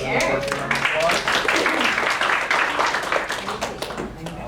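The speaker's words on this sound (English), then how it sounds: "let's give them a birthday round of applause" Round of applause at a real estate sales meeting to mark people's birthdays, dense clapping filling the room over several seconds with voices mixed in.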